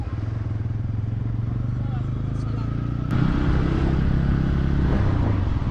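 Motorcycle engine, a Yamaha FZ N160-type commuter bike, running steadily while riding along a university road in Bangladesh, loud and continuous with a rise in intensity midway, wind and road noise throughout.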